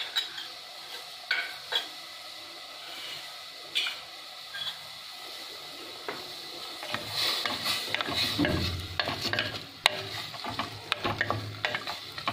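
Matar paneer gravy being stirred in a pan after milk and salt are added, soft scraping and light clinks at first, then a bubbling simmer with spoon strokes rising louder in the second half.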